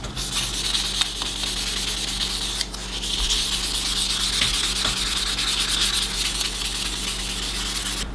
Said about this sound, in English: It's all like literally fingers and sandpaper and a little WD-40.